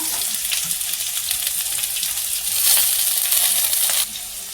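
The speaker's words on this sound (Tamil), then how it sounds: "இப்போ வெங்காயம் நல்லா வதங்கிடுச்சு" Garlic, onion and dried red chillies sauté in a pan for a Ponnanganni keerai greens dish, giving a steady close hiss of frying with light scraping clicks, swelling briefly louder near the end before easing off.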